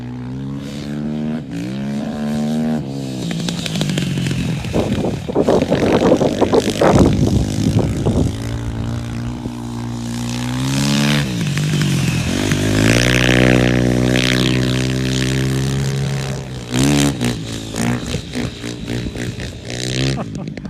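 Racing motorcycles on heavy ice tires scream across a frozen track, their loud engines revving and shifting pitch continuously up and down as they pass close by.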